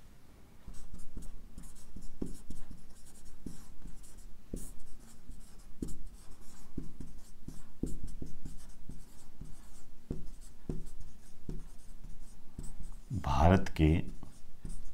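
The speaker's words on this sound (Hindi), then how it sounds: "तो यहां पर एक स्टार डाल के लिख दीजिए" Chalk or marker strokes on a board marking a star, a series of short taps and scratches spread through the clip, with a teacher talking over them and a louder scrape near the end.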